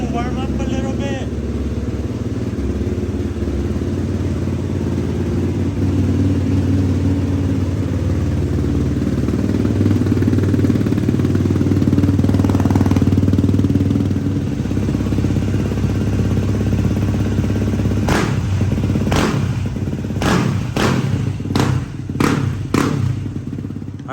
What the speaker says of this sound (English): We are now gonna let the engine warm up a little bit.